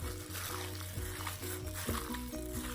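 Garlic beef being stirred into a bubbling Thai hot pot broth, a steady close sizzle and simmer with soft stirring scrapes and no talking.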